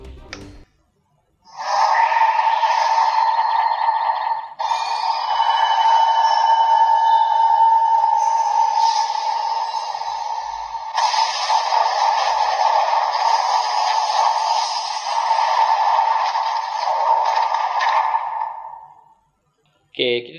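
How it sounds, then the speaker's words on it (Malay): Rider kick sound effect from a DX Century King Sun Driver toy belt (Kamen Rider Black Sun), a loud, continuous electronic tone lasting about seventeen seconds with a brief break near five seconds, played alone. "kita hold lama-lama untuk bunyi rider kick"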